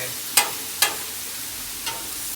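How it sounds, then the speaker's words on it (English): Meat searing and browning on a very hot grill, a steady close sizzle hiss broken by two sharp spatula scrapes early on and a softer one later. "it doesn't take long at all for this meat to brown on a real hot grill"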